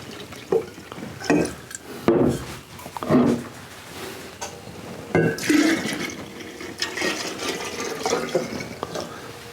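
Bourbon and water are stirred together during proofing, giving sloshing, swirling liquid bursts with a few knocks against the container, close and fairly loud, broken by short pauses.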